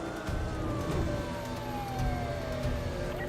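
A police siren wails steadily in Need for Speed: The Run, with falling and rising tones, mixed with engine rumble and road noise, loud and close.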